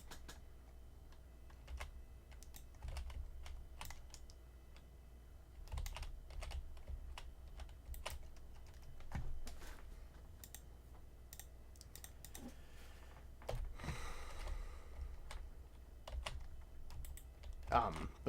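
Typing on a computer keyboard while building in Minecraft, a steady patter of soft key clicks at close range, with a person talking quietly over parts of it.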